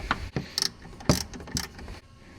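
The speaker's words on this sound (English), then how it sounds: "So we got a 10mm, so it helps to have a swiveling ratcheting head on these." A swiveling ratchet tightening a 10mm bolt on a 2018 Tesla Model 3 during a horn replacement gives several short bursts of quick mechanical clicking, close and fairly quiet, with no talk.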